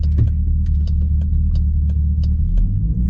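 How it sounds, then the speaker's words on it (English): Jeep SRT fitted with a Solo exhaust idles or holds a deep, loud rumble up close before wide open throttle, a steady throbbing low drone with faint ticking above it, no talking. "Now we're going to get into some wide open throttle and a quick launch."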